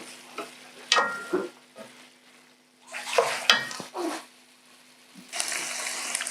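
Food fries in a small amount of oil in a pan, with bursts of sizzle and spattering crackles coming and going between quieter gaps, close by, then a steadier hiss at the end.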